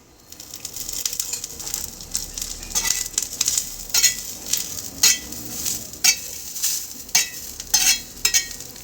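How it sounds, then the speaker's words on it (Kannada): Garlic sizzles in hot oil in a pan while being stirred, with repeated scraping strokes of a utensil against the pan over a steady frying hiss. "ಬೆಳ್ಳುಳ್ಳಿ ಹಾಕಿ ಹುರಿತೀನಮ್ಮ"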